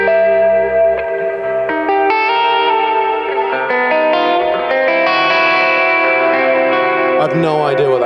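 A sustained guitar chord rings out through heavy effects, with distortion, chorus and echo washing over it. It stays loud and held for several seconds, with a brief burst of high picking near the end.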